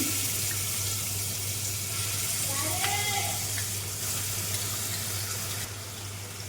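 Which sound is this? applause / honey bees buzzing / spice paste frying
spice paste frying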